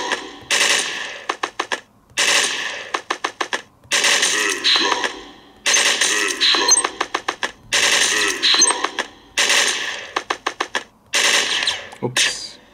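Cartoonish gunfire from the mobile game Mr. Gun comes as rapid, crisp rattling bursts, each lasting about a second, repeating in a steady on-off rhythm with short silent gaps between them, loud and close.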